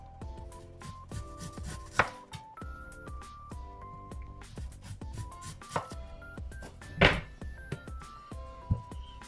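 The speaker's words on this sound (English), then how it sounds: "So I'm just going to slice it." A knife slices yellow yam on a cutting board for a Jamaican chicken soup, sharp chopping thuds landing at a steady, unhurried rhythm up close, with a few louder strikes and background hum between.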